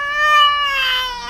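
A human voice imitates a crying cat with one drawn-out, wavering meow-like wail, close and loud.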